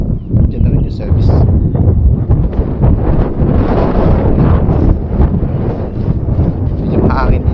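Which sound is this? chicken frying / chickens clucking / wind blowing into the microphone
wind blowing into the microphone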